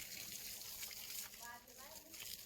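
Water runs from a hose pipe straight down into a chickpea field, a soft, steady gushing heard faintly beneath people talking.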